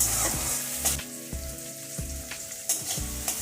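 Half a tomato sizzling in hot oil in a pan while making macher dimer jhal, a steady crackling fry with occasional stirring knocks, close and alone.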